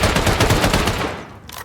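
A minigun firing in a video game, a loud continuous rapid burst of gunfire that holds steady and then cuts off, followed by a short trailing shot.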